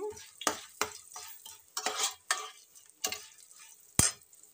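Turmeric goes into sizzling tempering oil for pulihora and is stirred. A spoon scrapes and taps the pan in scattered, uneven strokes over a soft, continuous frying sizzle, close by.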